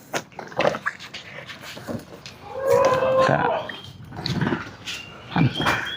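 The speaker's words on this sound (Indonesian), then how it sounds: "Ini memang kambing jantan kalau dilepas biasanya suka kayak gini" A male goat let loose on a livestock farm calls out in a few harsh, bleating bursts at close range, the loudest stretch in the middle, with a voice and scuffling around it.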